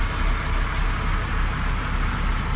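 Cummins 5.9 marine diesel engine idling on a boat during sea trials, a steady, loud, unbroken rumble with no voices.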